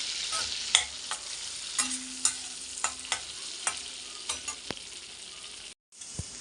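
Ginger and garlic pieces fry in butter for pav bhaji, a bright steady sizzle under sharp rhythmic clicks of a spoon against the pan, with a brief silent gap near the end.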